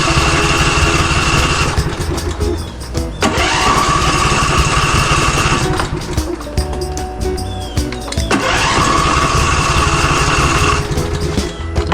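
Husqvarna riding tractor with a carburetor fault, its small engine running loud and close with an uneven, surging idle that swells and drops several times.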